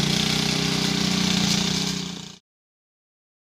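A farm tractor engine runs steadily at idle on a farm in the Konkan region, a loud, close, even mechanical drone for about two seconds before cutting off abruptly into silence.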